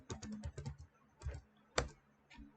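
Keys on a computer keyboard clatter in quick irregular bursts, a router configuration command being typed, with short pauses and one sharper keystroke near the end, close and quiet.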